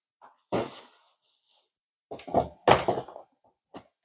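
Lift-off cardboard lid pulled from an Adidas ZX300 trainer box, a few close scraping and papery rubbing bursts separated by silence.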